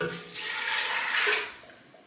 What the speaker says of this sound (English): I'm gonna add my black beans to my pot, and 3 cups of cold water